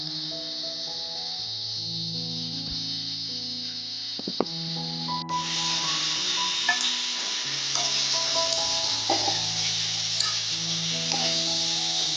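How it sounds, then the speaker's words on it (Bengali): Boiled jackfruit dropped into hot oil in a wok: a soft, steady sizzle swells into a louder, hissing fry partway through, with occasional stirring scrapes and tonal background music underneath. "তেলটা গরম হয়ে গেলে সেদ্ধ এঁচড়গুলো এতে দিয়ে দেবো।"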